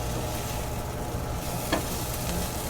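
Mushrooms, onions, butter and flour sizzle steadily in a pan, a close and constant frying hiss with a brief utensil scrape partway through.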